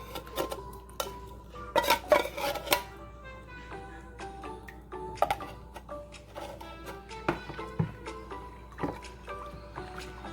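A spoon scrapes condensed milk from a metal tin for Jamaican pumpkin punch, giving a run of close, irregular clinks and scrapes with sharp metallic ticks over about ten seconds, with no talk.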